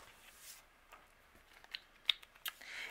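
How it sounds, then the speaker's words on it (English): Scissors snipping leftover twine tails on a handmade card, a few quiet, sharp clicks spaced out near the end of a hushed room. "And then any leftover twine, we can trim away those tails."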